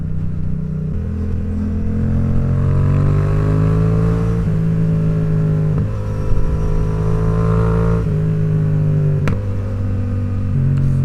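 A Yamaha XSR700 motorcycle with its exhaust baffle removed accelerates hard, the engine note climbing in pitch through the gears with brief dips at each shift. It stays loud and close throughout.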